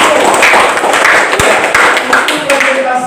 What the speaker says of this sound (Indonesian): mari kita tepuk tangan untuk kelompok